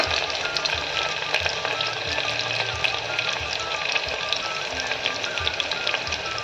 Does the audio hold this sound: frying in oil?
yes